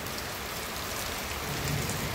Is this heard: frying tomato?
no